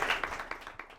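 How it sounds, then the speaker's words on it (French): Audience applause for the Minister of Arts and Culture in a school government debate, a short burst of clapping with distinct hand claps fading out over about a second. "on peut l'applaudir, hein?"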